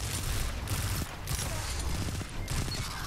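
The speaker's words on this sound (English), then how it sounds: "Yep, of course, it's shotgun." Rapid shotgun blasts from player-versus-player combat in the video game Destiny 2, loud and repeated in close succession across the short stretch.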